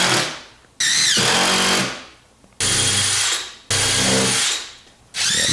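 A power drill bores into a garage cabinet mount in three loud, close bursts, each whine starting abruptly and winding down before the next trigger pull.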